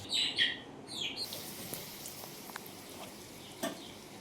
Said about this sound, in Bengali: তার জন্য তেল গরম হয়ে গেছে, এবার লুচিটা ছাড়বো।